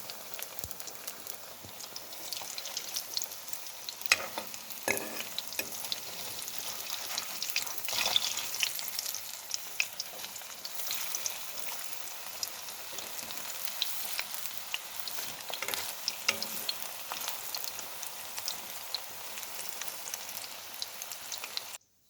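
Cauliflower fritters frying in hot oil, a continuous dense crackling sizzle like light rain, steady and close with occasional louder pops and faint utensil touches throughout.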